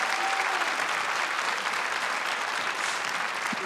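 An audience at the Ukrainian national final for Eurovision 2019 applauds as performers file off stage, a broad, even wash of many hands clapping at a steady level, somewhat distant and continuous.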